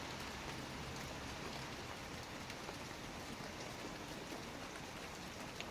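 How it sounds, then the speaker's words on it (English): Rain falls outside as a soft, even hiss that stays faint and steady throughout, with no voices. "Even though it's raining, right?"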